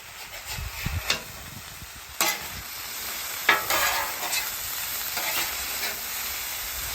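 Potatoes frying on a Blackstone griddle give a steady close sizzle and hiss, with occasional scraping or stirring clatters from a spatula; no one speaks.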